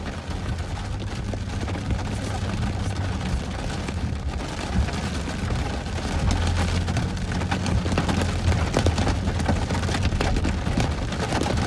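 Hail falls during a storm in Calgary, making a dense, steady patter and clatter on nearby surfaces that stays loud and continuous, with a low rumble underneath.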